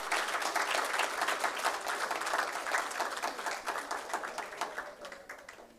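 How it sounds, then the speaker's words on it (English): Sustained applause from an audience at an inter-secondary-school food safety debate competition, many hands clapping steadily and densely throughout, fairly near and even, tapering only slightly at the end. "Please join me in giving both teams a resounding round of applause"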